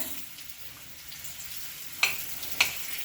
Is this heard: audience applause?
no